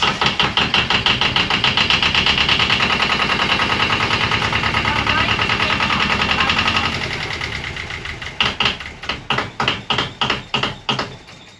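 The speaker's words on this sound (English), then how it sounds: "So we started the engine for the first time this year." The engine of an old $1 boat being readied to live on runs with a loud, rapid mechanical chugging, slows, then sputters in uneven bursts as it begins shutting down.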